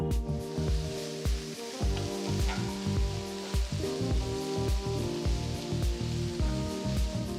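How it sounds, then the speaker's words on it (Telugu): Chopped ginger and garlic cloves fry in hot oil in a pan, a steady close sizzle with faint stirring scrapes and no talking. "వీటిని బాగా కలిపి రెండు మూడు నిమిషాలు వేయించాలి"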